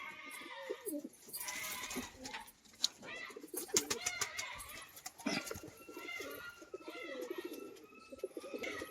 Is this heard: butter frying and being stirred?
no